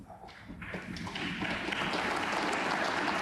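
Spectators clapping at a neighbouring table during a snooker match, a broad crackling patter of applause that starts thin and swells into steady, sustained clapping, heard at some distance.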